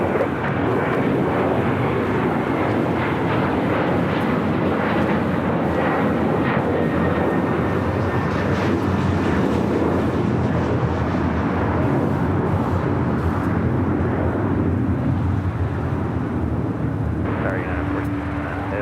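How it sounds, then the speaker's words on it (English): A KLM Boeing 777-200ER arriving from Amsterdam at LAX gives a steady, broad jet roar that stays fairly loud throughout, with talk audible over the engine noise. "Also just had KLM flight 603 coming in from Amsterdam on the 777-200 ER."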